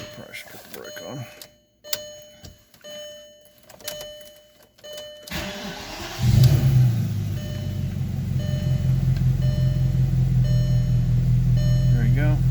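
A 2003 VW Passat W8 4Motion with a six-speed manual, sitting in neutral, as its engine starts and settles into a steady low rumble after a few seconds of quiet interior clicks and chimes.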